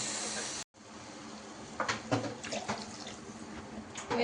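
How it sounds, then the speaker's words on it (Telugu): Three cups of water are poured into a pan of fried semolina for mango kesari, making a hissing, bubbling splash with irregular bursts that follow a brief gap of silence near the start. "1 కప్ రవ్వ తీసుకున్నాం కాబట్టి 3 కప్స్ వాటర్ వేసుకోవాలి."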